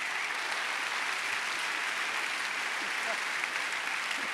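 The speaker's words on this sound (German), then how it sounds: "Applaus!" A live audience at a comedy show in a Kursaal hall applauds, a dense, steady roar of clapping that holds at full strength for the whole stretch, with a few voices faintly mixed in.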